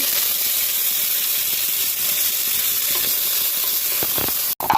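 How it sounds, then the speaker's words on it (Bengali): Cashews and raisins frying in a pan, a steady close, loud broadband sizzle with light crackles throughout, briefly cut off near the end. "প্রথমে কাজু কিশমিশগুলো ভেজে নেব"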